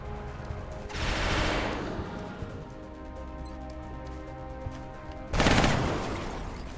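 Gunfire in XCOM: Enemy Unknown, heard as two loud bursts of rattling shots, each lasting about a second, separated by a quieter stretch of game ambience.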